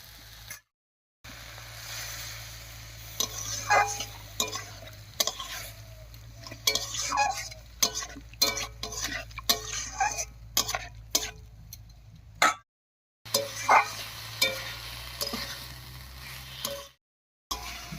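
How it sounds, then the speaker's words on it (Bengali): Spices being stirred and fried with ground spice-paste water in a pan for a vegetarian green papaya curry, repeated scraping strokes of a spoon over a soft sizzle, with a few short silent breaks. "এবার একটুখানি মশলা বাটা জল দিয়ে খুব ভালো করে কষিয়ে নেব।"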